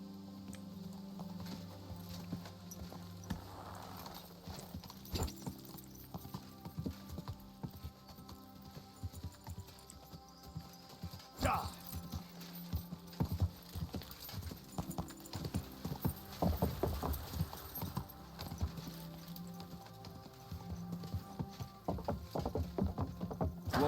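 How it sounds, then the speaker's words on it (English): Horse hooves clip-clopping in a steady rhythmic gait while riding in the video game Kingdom Come: Deliverance II, fairly quiet, with game music and occasional clanks alongside. "我直接骑马过去吧。"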